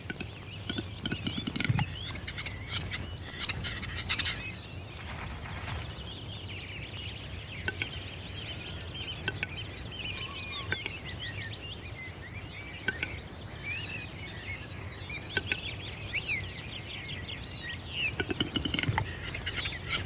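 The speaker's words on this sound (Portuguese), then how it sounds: "a floresta ecoa com os sons extraordinários do tetraz" Forest ambience with scattered bird calls; odd clicking, popping and gurgling calls of a male capercaillie ring out at moderate distance among faint chirps.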